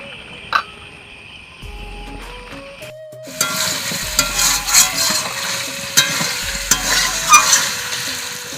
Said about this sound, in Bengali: আর আমি এই মাংসটাকে ভালো করে খুন্তি দিয়ে একটু নেড়ে নেব আর ভালো করে একটু কষে নেব